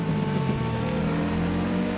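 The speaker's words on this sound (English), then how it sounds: "high-revving 4-cylinder engines with almost no exhaust system, they always sound like letting out a bunch of angry bees" Race car with a high-revving four-cylinder engine and almost no exhaust system, competing at a European Hill Climb Championship round: a steady, loud, buzzing engine drone held throughout without talk.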